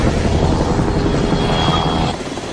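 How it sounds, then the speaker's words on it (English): A helicopter roars steadily up close, its broadband engine and rotor noise filling the whole clip, easing slightly near the end. "I'm in a chopper chasing that runaway."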